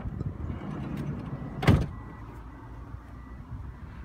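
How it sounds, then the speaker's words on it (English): A single muffled thud of a Toyota Estima's electric soft-close sliding door shutting, brief and fairly close, over a low steady background hum. "Twin slide doors with electric windows in both slide doors and soft closed doors."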